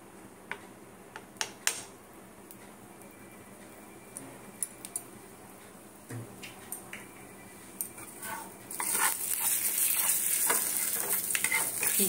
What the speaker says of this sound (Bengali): তিলটা ঘিয়ের মধ্যে একটু ভেজে দেবো।